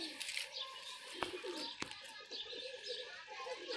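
A desi high-flying pigeon coos softly and close, with a few sharp clicks and faint background chatter mixed in.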